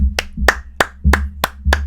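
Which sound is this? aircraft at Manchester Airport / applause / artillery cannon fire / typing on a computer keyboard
applause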